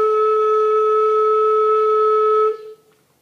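A flute note begun with a tongued attack rings steady and close for about two and a half seconds, then cuts off and decays briefly into silence.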